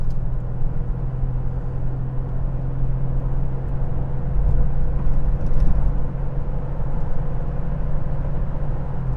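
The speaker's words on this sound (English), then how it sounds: "we're gonna go ahead and go on a test drive and make sure that it shifts through all the gears" Inside a 2005 Ford Mustang with a 5R55W automatic transmission on the freeway, a steady loud engine and road rumble drones with a low tonal hum, swelling slightly midway as the car accelerates, with no talk.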